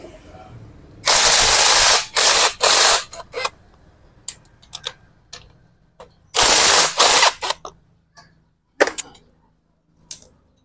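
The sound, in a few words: loosening nuts with a socket wrench on a motorcycle engine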